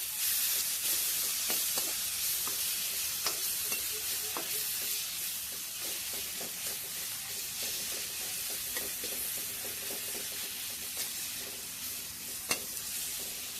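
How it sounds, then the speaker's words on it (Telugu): Ginger garlic paste frying in hot oil for a ridge gourd curry, a steady close sizzle with light stirring clicks throughout and no voices. "అల్లం వెల్లుల్లి పేస్ట్, వేసి ఇవి 2 నిమిషాలు ఫ్రై అవ్వాలి."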